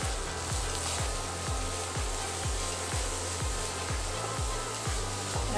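Chopped spinach with onion cooks in a pan, giving a steady close sizzle with regular low thumps about twice a second, likely stirring or a utensil knocking, and no talking.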